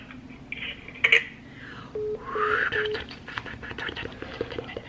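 A telephone line gives electronic tones right after a call ends, with a short burst near the start, a steady beep pattern around the middle and faint background noise throughout.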